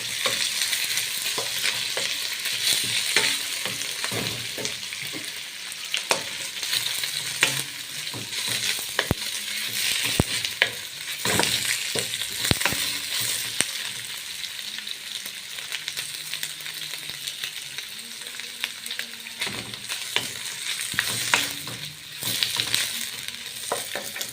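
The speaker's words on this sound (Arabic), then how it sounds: "انزل بالفراخ، وافضل اقلب" Chicken pieces frying in a pan while being stirred steadily, a continuous close sizzle broken by frequent scraping and clattering stir strokes throughout, with no voices.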